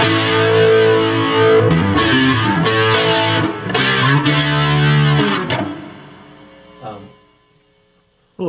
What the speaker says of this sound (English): there's a distortion knob I was showing them. So if I turn this up, I get.